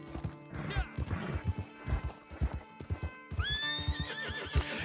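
Horse in the video game Red Dead Online, riding up a mountain: steady clip-clop hoofbeats with snorts, then a loud rising whinny near the end, over a game soundscape.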